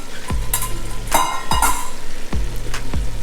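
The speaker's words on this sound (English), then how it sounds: "Just stir this up." Vegetables being stirred in a sukiyaki pot over a gentle sizzle, with several sharp utensil clacks against the pot at irregular intervals.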